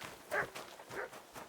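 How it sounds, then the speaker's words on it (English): A dog in the medieval video game Kingdom Come Deliverance 2 barks twice, short and fairly close, over a quiet game ambience. "الكلب بدأ ينبح عزكم الله"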